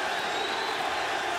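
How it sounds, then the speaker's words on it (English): A fight crowd at the Alvarez vs Chandler 2 bout applauds Eddie Alvarez, a steady wash of clapping and murmuring cheers from a large arena audience that holds level throughout. "They're just applauding the guts we're seeing here."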